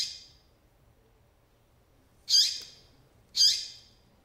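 Two short, sharp calls from a female Papa-capim seedeater sound a second apart, close and clear, following a faint earlier note against a quiet background.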